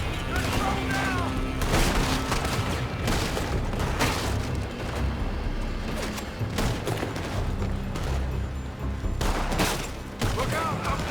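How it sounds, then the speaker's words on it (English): Gunfire in the Red Dead Redemption 2 video game, with bursts of shots and booms rolling continuously through the scene, mixed with game noise and voices. "They're shooting from that building!"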